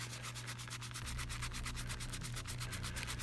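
A linen towel dampened with Goo Gone citrus oil rubbed back and forth over a thrift store price label, a steady rhythmic scrubbing swish with quick regular strokes, close and alone.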